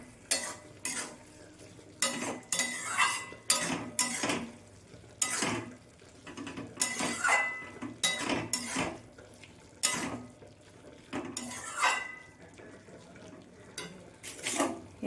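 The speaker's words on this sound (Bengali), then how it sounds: "ঢাকাটা খুলে আমি একটু নাড়াচাড়া করে দেব" Soybean and potato curry being stirred in a pot once the lid is off, a spoon scraping and clacking against the metal in repeated bursts with brief pauses between strokes, close and fairly loud, no talking.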